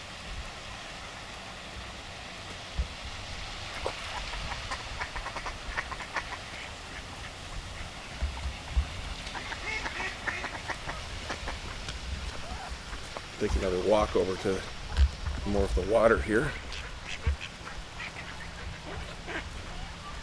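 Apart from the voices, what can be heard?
ducks quacking near water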